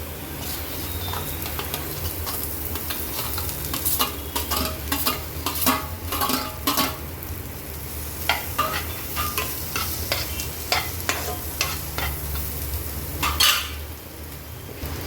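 Mashed potato filling for Mumbai vada pav frying and being stirred in a pan: repeated close scraping and clacking of a spoon against the pan over a continuous low sizzle, irregular and busy, with no talk.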